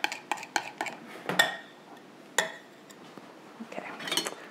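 A ladle clinking against cups while filling them with strawberry mousse, a quick series of sharp close taps and clinks, then a few scattered knocks and a softer clatter at the end, no talk.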